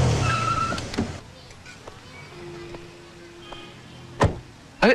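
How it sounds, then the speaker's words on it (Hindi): A car rolls up and comes to a halt on a street, with a soft fading engine hum, a few brief clicks and two sharp knocks near the end. "अरे एक मिनट गाड़ी रोको।"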